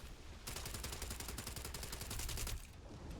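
The Ryujin Compact weapon in Starfield fires a fast, steady automatic burst lasting about two seconds, crisp rapid shots at an even rhythm, then stops, with no talk.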